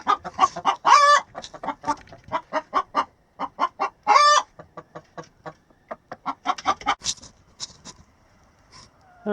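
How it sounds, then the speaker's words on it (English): Chickens cluck repeatedly in a rapid, uneven series of close, fairly loud calls, with a couple of longer squawking bursts standing out among the shorter clucks. "there's another one of our chicks that is over a year old that was hatched from an egg on this here"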